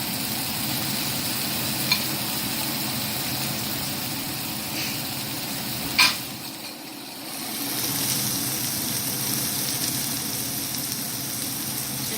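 Mushrooms and onions frying in a hot pan, with a steady close sizzle broken by a few sharp clinks and a brief dip before the hiss builds back up.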